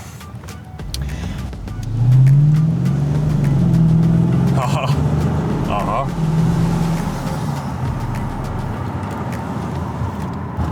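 A Lexus LS460 V8 engine revving up and settling, a deep, smooth rumble that rises loudly, holds, then eases, with someone speaking briefly over it.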